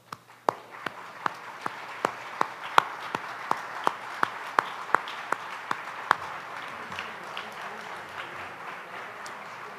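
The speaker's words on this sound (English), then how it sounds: "will you please stand up and accept our applause?" Sparse applause from an audience at an awards event honours diplomatic partners, a few sharp, distinct claps ringing out in a slow, even rhythm before tapering into a quiet room hum.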